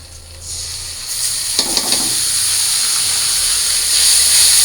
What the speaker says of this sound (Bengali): আর এই পাশে যে মাংস রান্না করার জন্য পেঁয়াজ ভাজা করে নিতেছি